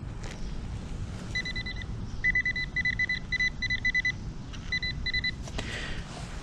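Legend metal detector giving high-pitched signal tones, repeated short electronic beeps in bursts over an outdoor background, with a scrape of digging noise between them.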